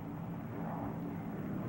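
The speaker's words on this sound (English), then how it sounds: "Presented herewith is a new type of airplane, a primary trainer escort, under absolute control at 90 miles an hour indicated." A propeller-driven primary trainer escort airplane in flight at about 90 miles an hour makes a steady, low engine drone with a constant rumble, alone and moderately loud.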